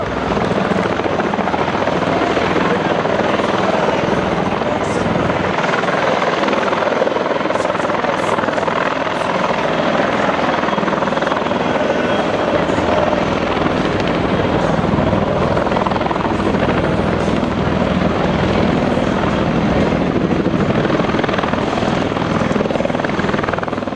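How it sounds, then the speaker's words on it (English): An Osprey tilt-rotor aircraft flies at a Marine Corps air station air show, giving a loud, continuous rotor thrum and engine roar that holds steady throughout with no clear talk. "that's the new Osprey tilt rotor"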